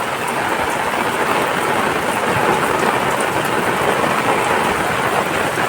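Heavy monsoon rain pours down in a dense, unbroken roar, close and loud on the surfaces around. It holds a steady intensity throughout, with no voices.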